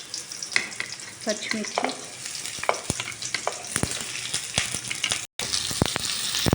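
Onions and green chillies sizzle and fry in hot oil in a kadai, with a steady crackle and sharp pops of spatter, briefly cut by a short gap near the end; a voice says a single word.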